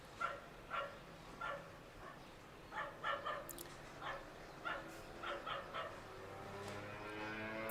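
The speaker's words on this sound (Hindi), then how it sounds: "भौंक रहा है।" A small dog keeps barking and yipping in short bursts at a moderate distance, some two dozen barks in an uneven rhythm, heard from a balcony overlooking a river in Laos with faint background hum.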